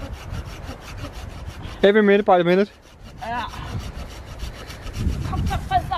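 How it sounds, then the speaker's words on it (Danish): A hand saw cuts through the trunk of a felled Christmas tree outdoors, with loud rhythmic rasping strokes near the microphone while people talk and wind rustles. "Ja, du skal save den der derovre."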